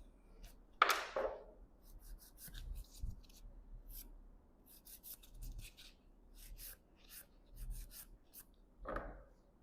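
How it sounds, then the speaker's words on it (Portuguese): Light sanding of a fiberglass corner with a sanding bur: quiet, intermittent scratchy rubbing strokes, close and soft, with a couple of sharper rasping bursts at the start and end. "Esse cantinho aqui a gente precisa lixar um pouquinho mais, bem de leve."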